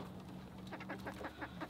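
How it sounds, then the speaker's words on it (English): A Sumatra rooster's low clucking calls repeat in a quick series, faint against a steady background hum. "my Sumatra rooster, he's just chilling in here by himself"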